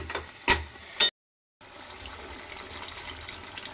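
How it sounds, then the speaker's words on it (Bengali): Water is poured into a yogurt egg curry in a pan, heard as two short close splashes followed by a brief silence and then a faint, low bubbling wash. "আর একটু আমি জল দিয়ে দিচ্ছি"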